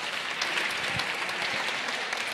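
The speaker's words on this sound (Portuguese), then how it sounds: "uma salva de palmas para eles" An audience breaks into a steady round of applause, a crowd of hands clapping in a dense, even texture at moderate volume, heard alone without speech.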